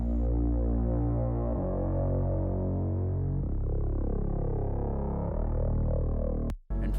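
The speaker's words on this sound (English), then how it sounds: "And for the build up, we are also going to use a Reese bass that sounds like this." A Reese bass synth plays a build-up in a 2016 NCS-style electronic track: a thick, throbbing, detuned low drone with shifting notes, loud and steady throughout before a sudden brief cut near the end.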